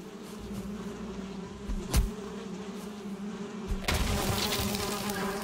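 Bees buzz around a hive in the Valheim survival game with a steady, close droning hum, broken by a sharp hit early on and a rustling burst partway through.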